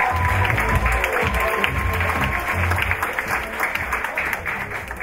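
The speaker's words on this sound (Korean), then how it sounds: "다시 한번 큰 박수 부탁드리겠습니다" Steady applause fills the hall at the close of a graduation fashion show for fashion design and stylist students at a Seoul arts school, dense clapping sustained throughout without a break.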